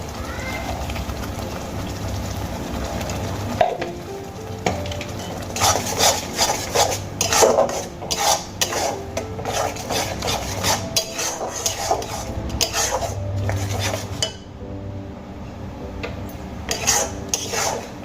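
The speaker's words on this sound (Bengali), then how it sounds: "যতক্ষণ না মশলা থেকে খুব ভালো করে তেল ছেড়ে আসছে ততক্ষণ আমি মশলাগুলোকে খুব ভালো করে কষিয়ে নেব" Spices for Bengali katla fish kalia are stirred and fried in a pan, a spatula scraping and rubbing against the metal in repeated strokes over a low sizzle, close and moderately loud.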